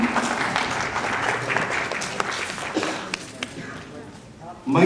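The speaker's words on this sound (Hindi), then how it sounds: "जोरदार तालियां।" A crowd claps in sustained applause that slowly thins out, with a voice speaking over it and a brief loud burst at the end.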